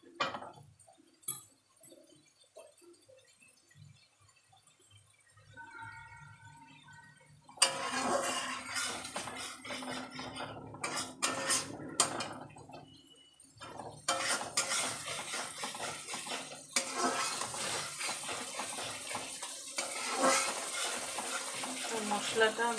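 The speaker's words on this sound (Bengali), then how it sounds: "আর একটু মশলাটা ফ্রাইড হবে।" Spice masala sizzles and is stirred in a pan while cooking spicy fried Amodi fish, with scraping utensil clatter and bursts of frying hiss that grow denser and louder after a quieter start.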